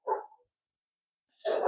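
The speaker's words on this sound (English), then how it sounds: "please excuse the dogs" Two dog barks sound in the background during a talk show, one short bark at the start and a louder, longer bark near the end with a silent gap between them.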